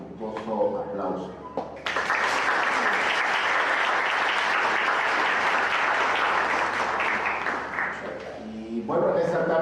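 Warm applause from an audience at a lecture on democracy and diversity swells abruptly and holds steady for several seconds, then fades as a voice speaks at the start and end.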